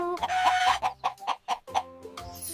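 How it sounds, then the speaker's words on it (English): Chicken vocalising in a quick series of sharp, loud calls, about eight bursts in a fast uneven rhythm, close and alone with no talk. "Who's crowing in the morning?"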